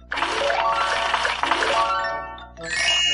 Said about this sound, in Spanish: Es un juego freemium que me envía notificaciones push.